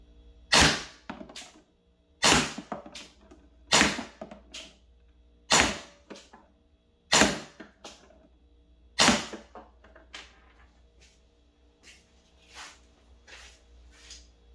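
An HDR50 air pistol running on high pressure air fires six sharp, loud shots spaced about one and a half seconds apart, each with a brief clatter. Quieter mechanical clicks follow, and no one speaks.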